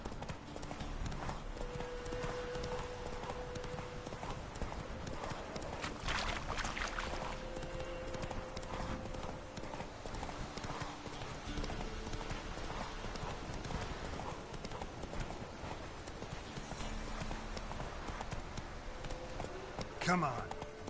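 Hooves clip-clop steadily as a horse gallops in The Witcher video game, a quick rhythmic beat running throughout at moderate level, with a voice urging the horse on and an occasional whinny.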